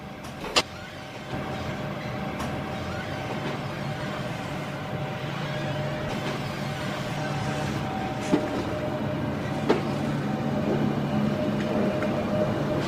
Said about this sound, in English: As the train departs